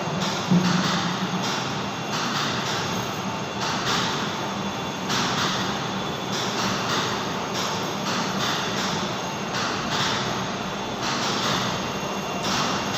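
A fire pump's 200-horsepower electric motor runs at 2970 rpm on 50 Hz power in a fire plant room, giving off a steady, loud, even hum and whir with no break.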